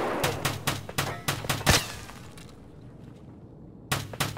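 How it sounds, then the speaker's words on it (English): Suppressed gunfire in the video game Escape from Tarkov on the Factory map, a rapid string of muffled cracks followed by a pause and another short burst, close and fairly loud. "I'm hearing what sounds like suppressed round"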